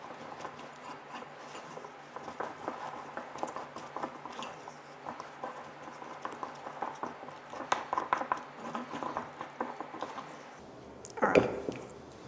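A spoon works sticky focaccia dough, scraping, patting and squelching as it folds flour and other dry ingredients into the wet mix. The soft irregular strokes run close to the mic, with a sharper knock near the end.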